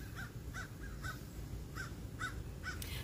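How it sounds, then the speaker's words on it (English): Crows caw outdoors near a forge, about six harsh calls spaced roughly half a second apart. They sound moderately distant over a steady low background rumble. "you know crows have been following me."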